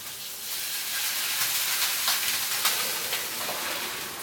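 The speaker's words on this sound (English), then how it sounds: "Your pan will be steaming," A hot pan from searing honey balsamic chicken hisses and steams steadily, a broad continuous sizzle with small crackling flickers, close and alone with no talk.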